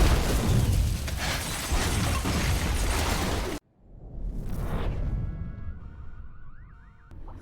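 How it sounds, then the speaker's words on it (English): A gas leak explosion rips through an apartment as a loud, dense roaring blast that cuts off abruptly, then a whooshing rumble of debris swells and fades while a wailing car alarm rises in the background. "Seconds later, a massive explosion rips through the place."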